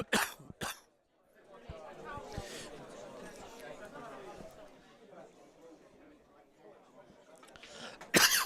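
Coughing from a commentator at a youth county finals pool match, a couple of sharp bursts near the start and a loud one at the end, over a steady murmur of chatter in the hall.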